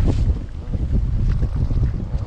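Strong gusting wind buffets a stand-up paddleboard fitted with a sail on open water, a loud, rumbling roar that rises and falls with no voices.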